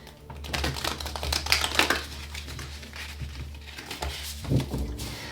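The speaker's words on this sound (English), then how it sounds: "Last shuffle." Hand shuffling of an Oracle of Pluto oracle deck, a close, crackly burst of rapid card flicks and papery rustling that eases off before another short shuffle near the end.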